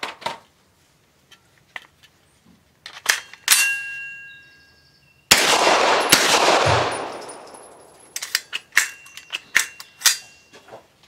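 A Dark Storm Industries Hailstorm 9mm pistol fires American Gunner 115 grain hollow points outdoors: a few sharp cracks, then a rapid string of shots with ringing clangs, followed by more spaced reports.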